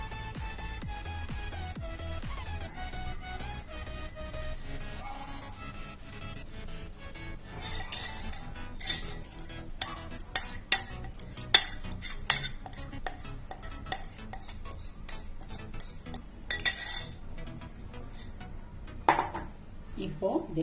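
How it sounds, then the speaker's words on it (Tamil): Eggs are mixed with flour and cocoa powder in a bowl for a homemade chocolate cake. A voice talks at first, then a utensil clinks and scrapes against the bowl in irregular bursts. "அதோட இந்த பவுல்ல இருக்கிற இந்த எக்கையும் நம்ம அந்த ரெண்டையும் ஒன்றா மிக்ஸ் பண்ணிப்போம்"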